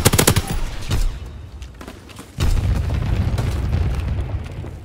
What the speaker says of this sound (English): Anti-aircraft bursts commenced. Targeting enemy aircraft.